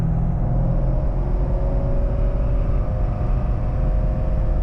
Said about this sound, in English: so I will do the blip on this one